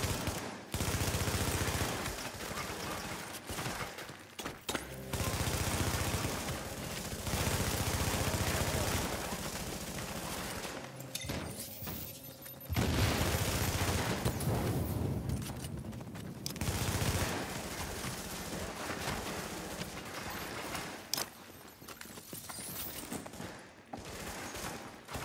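Sustained gunfire in a video game while a friendly fortification comes under attack, dense bursts of automatic fire and shots rolling on almost continuously, with a game announcer voice speaking over it at times.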